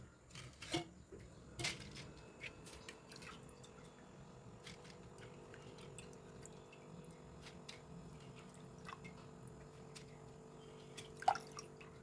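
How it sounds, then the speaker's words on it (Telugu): Soaked urad dal being strained in a home kitchen, with faint irregular drips and trickles of draining water and a few sharper splashes, quiet and close. "వడకడుతున్నాను ఇక్కడ."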